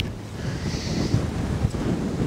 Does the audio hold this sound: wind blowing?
yes